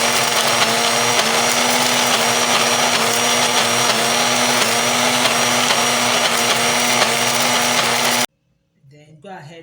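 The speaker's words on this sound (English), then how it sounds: "Then you put it in a blender and blend it." A blender whirs steadily and loudly as it grinds rice for a skin cream, a constant motor drone that cuts off abruptly near the end, followed by faint talk.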